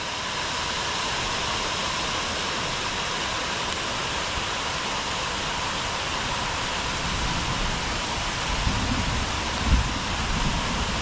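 Steady, straight-down rain falls on a Sunday morning on a cattle farm, a constant broadband hiss with no gusts, with a few soft thumps near the end.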